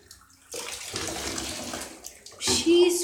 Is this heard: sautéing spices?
no